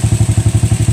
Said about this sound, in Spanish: Vamos a dejar prendido la motocicleta.